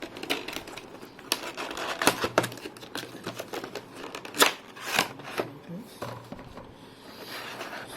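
Plastic clicks and snaps of a 2.5 inch hard drive enclosure being pried open come in scattered bursts close by, with faint talk underneath.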